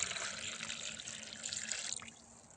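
Water runs from a tap for washing outdoors, a soft continuous splashing stream with a few drips, faint and close.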